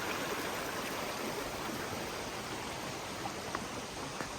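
Steady rushing water from a flowing mountain river in the Carpathians, a continuous broadband wash close by with no voices over it.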